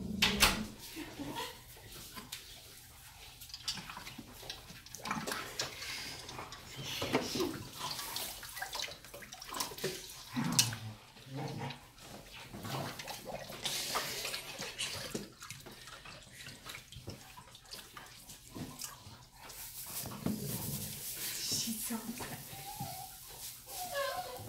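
A Cane Corso blowing bubbles in water, heard as splashing, sloshing and bubbling in bursts of varying loudness, with people talking over it.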